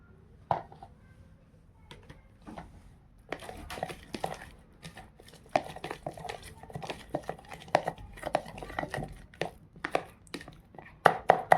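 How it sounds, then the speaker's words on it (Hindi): Henna paste is stirred in a container, giving soft scraping and irregular clicking taps from the utensil against the sides, quiet and close with occasional sharper knocks. "देखिए ऐसा ही हमने इसको अच्छे से मिक्स करना है।"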